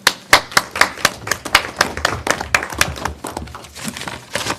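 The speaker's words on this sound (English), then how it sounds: "I just want to give a little bit of applause to these three people that were specifically mentioned" Several people applaud at a board of education meeting, a quick burst of close, sharp hand claps in an irregular rhythm, loud at first and thinning slightly toward the end, with no talk over it.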